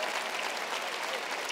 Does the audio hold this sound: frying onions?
no